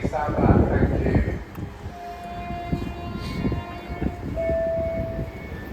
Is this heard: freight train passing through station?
yes